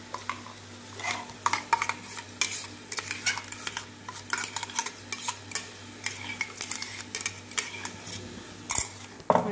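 Ground cashew and onion paste goes into a simmering curry and a spoon stirs it round the pan, a steady run of scraping, tapping strokes close up over a soft sizzle, with no talking.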